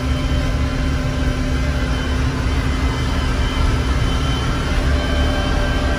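A John Deere 6300 tractor engine runs steadily and loud at close range, a constant low diesel rumble with a droning hum, unbroken and with no talking, while working a muddy crawfish pond.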